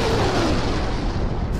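A deep, heavy boom rolls out and rumbles on with broad, noisy energy, loud and close, fading slowly with no voices.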